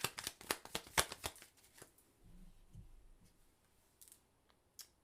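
A deck of tarot cards is riffled and shuffled in a quick run of crisp flutters, followed by softer handling as a single card is drawn, close and quiet with no talk.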